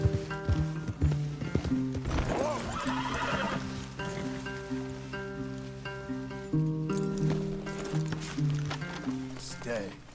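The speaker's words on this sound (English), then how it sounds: "Leave the horses in the trees there." Horses in Red Dead Redemption 2 whinny loudly and clop along at a walk, with rain, under spoken dialogue.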